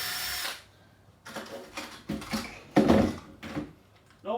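A power drill drives screws into a kitchen unit panel in short, whirring bursts of uneven length with pauses between, close and fairly loud, ending with a brief clunk.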